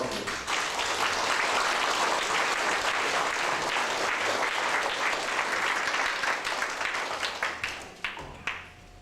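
An audience at a panel event claps and applauds loudly and steadily to welcome a speaker, the clapping thinning into scattered claps at the end.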